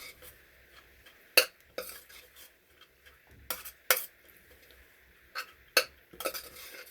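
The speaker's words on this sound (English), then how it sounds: "I'll just stir this in to the warm rice" A spoon stirs black rice and barley into warm cooked rice, giving soft scraping and a few sharp clinks against the bowl or pot at irregular intervals, close and fairly quiet.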